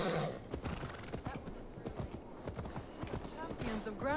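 A horse's hooves clip-clop steadily in Assassin's Creed Valhalla, with an occasional whinny, heard faintly beneath people talking.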